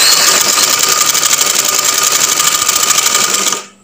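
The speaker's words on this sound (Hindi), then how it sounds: "ये देखें, मैं एक पाँव की सिलाई लगा रही हूँ" A sewing machine runs steadily and loudly at close range, stitching a shirt neckband in one continuous rapid whirring burst before stopping abruptly.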